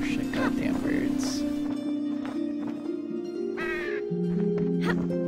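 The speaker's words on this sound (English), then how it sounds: "Goddamn birds." Crows caw repeatedly in the video game NyxQuest: Kindred Spirits, several harsh calls over a sustained musical tone, with a person talking over the game.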